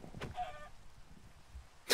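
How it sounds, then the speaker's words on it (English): A Minecraft chicken gives a brief, clucking call, close and fairly faint, followed by quiet low rumble and a sharp burst at the very end. "The chicken's grieving."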